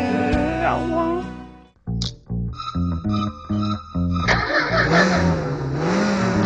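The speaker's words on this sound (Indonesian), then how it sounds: "Mobil keluarga harusnya seperti Suzuki R3 dengan mesin 1400 cc teknologi VVT yang responsif dan irit" Suzuki R3 family car with a 1400 cc VVT engine revving in a TV advert, short throttle blips in a stepped rhythm, then a sustained rising rev, mixed with music and voices.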